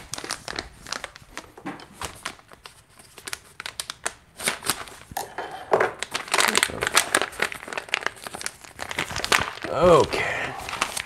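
A plastic coffee bean bag for espresso being cut with scissors and crinkled open: loud, close crackling and rustling in irregular bursts that grow busier toward the end, with no one speaking.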